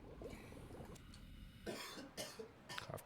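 A few close, abrupt coughs burst out in the second half after a quieter stretch, loud and harsh against a low background hum.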